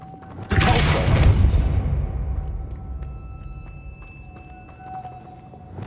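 Depulso spell cast in Hogwarts Legacy, a sudden loud whooshing blast that fades over a couple of seconds into a quieter ringing tail with faint game ambience.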